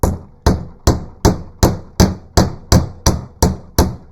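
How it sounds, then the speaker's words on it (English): Steady, loud hammer blows flattening a metal roller buckle on a rattling workbench, about eleven sharp, evenly spaced strikes, close up with no talking. "We use a hammer."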